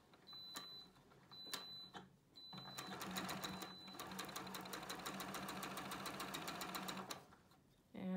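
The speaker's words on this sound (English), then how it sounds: "So now we're going to sew these. And we're just going to do our quarter inch seam." A sewing machine stitches a quarter-inch quilt seam, a few short back-stitch bursts at first, then a fast, steady mechanical rattle for about four seconds before it stops.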